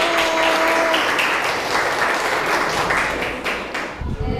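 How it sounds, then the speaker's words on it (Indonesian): Students in a junior high school mathematics classroom clap for a presenting group, a sustained burst of applause over a teacher's voice that thins out near the end. "Oke, tepuk tangan untuk kelompok"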